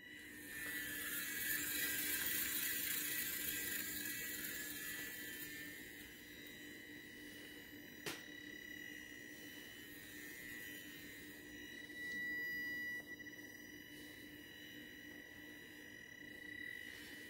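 A homemade compass magnet motor with a single U coupling spins after being switched on: a steady, faint mechanical whine with a low hum, and one sharp click partway through.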